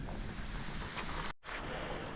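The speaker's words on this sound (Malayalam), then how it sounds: "പോകുന്ന വഴിക്കുള്ള രണ്ടാമത്തെ അരുവിയാണ്" A forest stream along the Agasthyarkoodam trek rushes as a steady, close, broadband wash of flowing water, briefly cut off near the end before resuming, with no talking.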